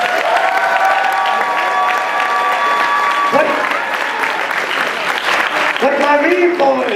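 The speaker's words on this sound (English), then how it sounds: "You should give them a round of applause." A crowd applauds camera and media crews at the closing of the Midwest Media Expo, loud steady clapping mixed with cheers and whistle-like shouts that rise again near the end.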